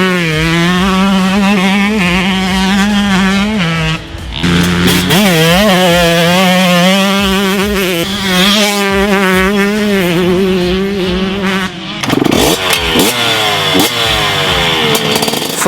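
A KTM 125cc dirt bike engine revs hard, its buzzing, raspy note rising and falling in repeated throttle blips. The engine is close and loud, with no talking.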